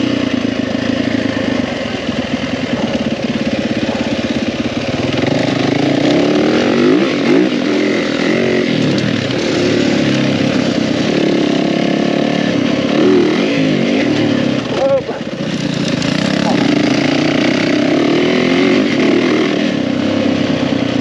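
Dirt bike engine at a motocross park, running loud and steady for the whole stretch with a rough, buzzing drone and repeated throttle blips and revs rising and falling, with a brief dip and surge near the end.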